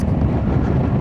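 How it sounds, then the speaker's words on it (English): Wind and heavy rain roar around a rider on a Honda ADV350 motorcycle, a loud, steady, low buffeting rush filling the short moment. "It's chucking it down. It's rather windy."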